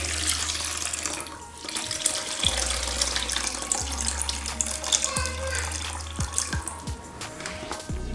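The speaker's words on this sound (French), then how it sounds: "Je renverse de l'eau salée." Salted water is poured out through a makeshift strainer while draining cassava chips, a steady splashing gush of water, close and fairly loud, with brief talk in the background.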